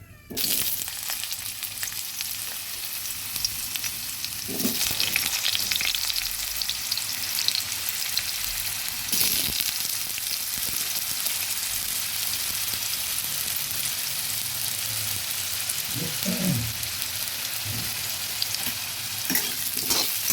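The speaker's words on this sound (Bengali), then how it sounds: "এখন আমি আলুগুলো ভেজে নিচ্ছি" Potato pieces fry in hot oil in a wok, a steady broadband sizzle running throughout with occasional stirring clatter, close and fairly loud with no talking.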